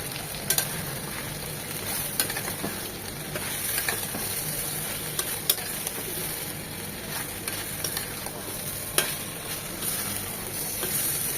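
Potatoes and drumsticks fry with spices and a chopped tomato in a pan, giving a steady close sizzle broken by occasional sharp stirring scrapes and clicks.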